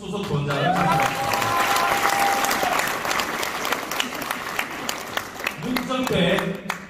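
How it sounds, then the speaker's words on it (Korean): A big crowd at a Busan Democratic Party concert gives loud, continuous applause, thick clapping that carries the whole stretch while voices and a sustained tone sound over it at the start and end. "교육연수원 수석부원장님 박수하십시오."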